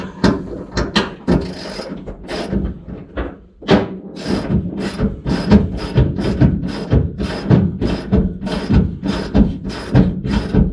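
Seat bolts being ratcheted tight in an old Chevy pickup during a seat swap, a fast run of repeated clicking pawl strokes with a few clunks, close and continuous.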